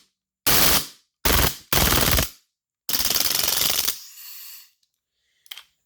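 An Umarex Mauser C96 CO2 BB pistol fires on full auto in three quick loud rattling bursts, then a longer sustained burst that trails off into a hissing spit of gas, followed by a faint click.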